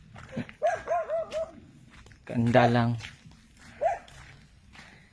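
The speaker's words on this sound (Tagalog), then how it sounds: "Oy, kaingay-ingay na aso." A dog barks a few times in a quick series nearby, then again later, while people talk quietly in between.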